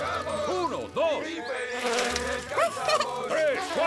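Cartoon flies buzzing in a Maya the Bee episode, a dense swarm of warbling, swooping whines that rise and fall close by, continuous across the clip with a brief rushing burst midway.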